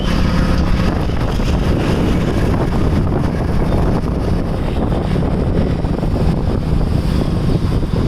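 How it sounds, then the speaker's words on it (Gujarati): Cold wind gusts steadily against the microphone for the whole stretch, a loud, broadband rushing roar with no voices, right after drizzling rain outdoors. "એકદમ ઠંડો પવન છે"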